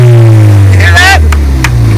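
A turbocharged 2016 Ford Mustang EcoBoost engine revs loudly and close. A heavy low drone rises briefly as the throttle blips, and there are short bursts of other noise near the end.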